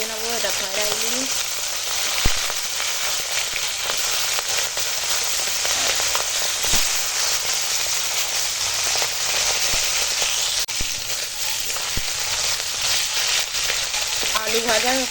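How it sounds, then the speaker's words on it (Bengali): Khoira fish, gizzard shad, fries in hot oil in a home kitchen after potatoes, giving a steady close, loud sizzle with dense crackling spatter throughout and no talking. "এবার ওই তেল গরম হয়ে গেছে, মাছগুলো ভেজে নেবো"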